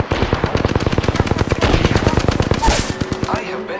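Sustained automatic gunfire in the Apex Legends battle royale game, a rapid, evenly spaced burst of loud shots lasting several seconds, close and dense, with brief speech-like sound mixed in near the end.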